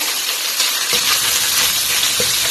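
Ground pork, 80% lean and 20% fat, sizzles loudly in a pan, a steady close hiss of frying with a few faint clinks and stirring sounds and no voices.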